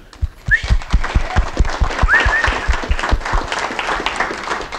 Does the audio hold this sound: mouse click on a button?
no